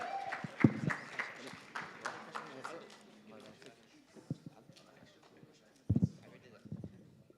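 An audience at a Muslim back-to-school youth event claps for two sheikhs who spoke, a faint, thin scatter of claps fading out, with a few louder bursts near the end.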